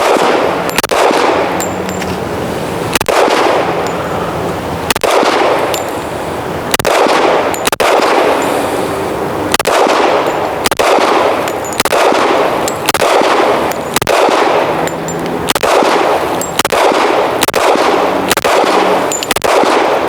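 Rifle shots ring out at an outdoor shooting range, about a dozen sharp loud reports spaced roughly every one to two seconds, each with a metallic ringing tail, with no voices.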